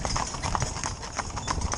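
Horse hooves clip-clop steadily on firm ground as horses in a tandem harness walk, a stallion and two geldings, with a quiet, even rhythm of hoofbeats and faint background noise.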